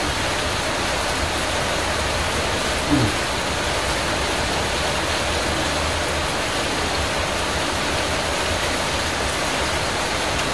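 Steady rain falls in a continuous, even hiss that fills the whole stretch at a moderate level, with no voices over it.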